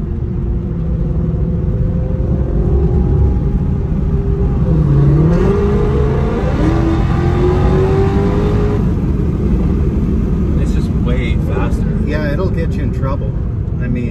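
Supercharged Mercedes C63 AMG pulling under part throttle, a loud steady engine drone with a rising rev sweep midway, heard from inside the car with voices talking throughout.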